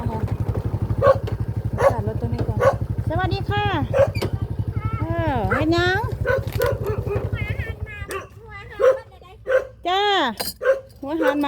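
A dog barks repeatedly at a rural Thai home, yelping and howling barks over a steady engine drone that fades partway through, with people talking nearby.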